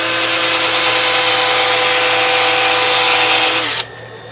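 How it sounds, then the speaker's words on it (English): A power sander runs fast over a woodturning with 600 or 800 grit paper, giving a loud, steady high whir that stops abruptly near the end and leaves a faint residual hum. "And I would do a real fast sanding."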